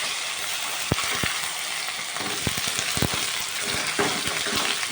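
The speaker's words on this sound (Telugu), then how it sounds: "ఇదిగోండి కొంచెం అల్లం వెల్లుల్లి పేస్ట్, మరి వేస్తే" Ginger garlic paste frying in a pan, a steady close sizzle with occasional sharp pops and crackles throughout.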